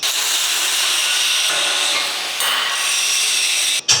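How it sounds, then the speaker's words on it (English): Steady, loud broadband hiss and crackle of tack welding on steel rollers for an in-feed conveyor in a fabrication shop, continuous for about four seconds with a brief break near the end. "Over here we've got Rob, who is currently tack welding up all of the rollers for the in-feed conveyor."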